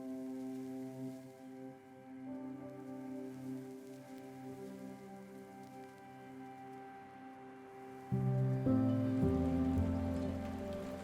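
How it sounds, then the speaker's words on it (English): Steady rain falls at Combley Lakes, a carp fishing lake on the Isle of Wight, pattering continuously on nearby surfaces with a low tonal hum underneath that swells louder near the end. "John's prayers for the rain to ease unfortunately didn't come true"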